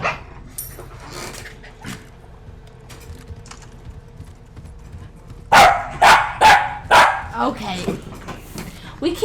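Dogs bark in Resident Evil 4 Remake: after a quieter stretch with talking, a rapid run of loud, close barks bursts out, roughly five or six in quick succession, then tapers off.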